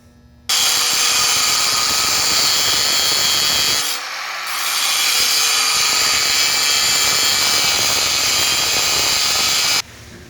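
A bench grinder stone notches the end of a metal tube, a loud, steady broadband grinding roar lasting nearly the whole stretch, with a brief dip partway through as the tube is eased off the wheel.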